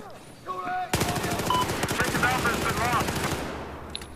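Rapid bursts of MX4 PDW fire from the video game Battlefield 4, fast close-range automatic shots in a dense stream lasting a few seconds, with faint game sounds around them.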